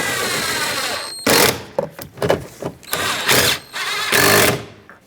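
A power drill whirs in short bursts while screws are driven into the door trim of a 2007-2014 Chevrolet Silverado 2500HD, close and loud, with several on-off pulses separated by brief pauses and no talking.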